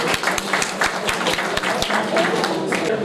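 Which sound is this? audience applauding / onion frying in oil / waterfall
audience applauding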